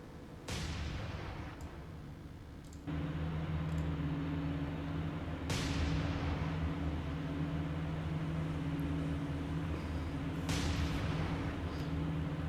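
Three heavy booming shots from a PT boat's deck guns in the naval game War on the Sea, each a sharp blast with a long rumbling decay, spaced several seconds apart over a steady engine drone.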